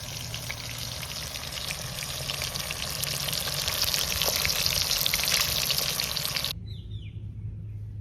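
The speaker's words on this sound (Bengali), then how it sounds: "লাল লাল করে মাছ ভেজে নিয়েছি" Rupchanda pomfret fish frying slowly in a pan, a steady close hiss of sizzling oil that runs for several seconds before cutting off abruptly, leaving quiet background with a faint bird call.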